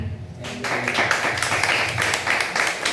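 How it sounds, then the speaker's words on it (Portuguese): Church congregation applauding during a revival service, steady dense clapping from many hands that holds at an even level throughout, with a voice faintly audible underneath. "Palmas para Jesus."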